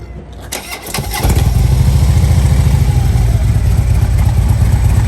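A 2008 Harley-Davidson Softail motorcycle engine cranks briefly, then catches and settles into a steady, loud, throbbing idle close by.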